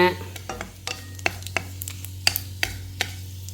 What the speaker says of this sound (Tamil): எண்ணெய் நல்லா காஞ்சோன்னே கடுகு, காய்ந்த மிளகாய் இதெல்லாம் போட்டுக்கோங்க.